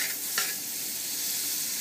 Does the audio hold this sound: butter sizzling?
yes